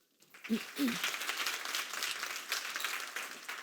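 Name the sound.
audience applause welcoming speaker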